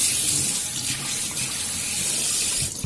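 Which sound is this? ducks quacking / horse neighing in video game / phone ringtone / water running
water running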